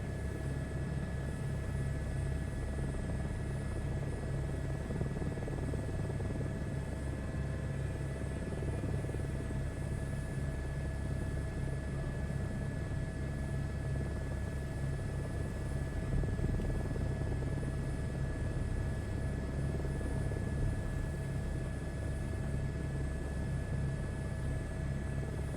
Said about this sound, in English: On board the helicopter, Captain.